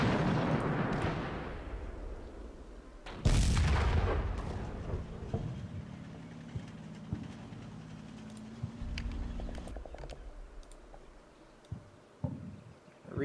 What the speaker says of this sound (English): Artillery is hitting around our back base area